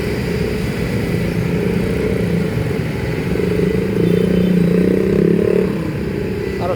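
Cars and motorcycles push through fast-flowing floodwater on a street, a constant loud wash of rushing water and engine rumble with a motorcycle revving past midway, close and continuous.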